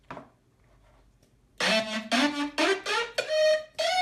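A synth run through a multiband compressor and Camel Crusher distortion bursts in after a faint, near-silent start, playing several loud, gritty sustained notes that pulse in short phrases with bright harmonic buzz.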